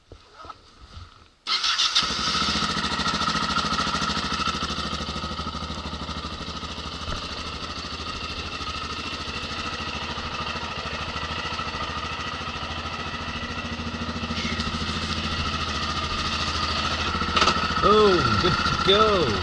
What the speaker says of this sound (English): Fire up the engine, get it warming up.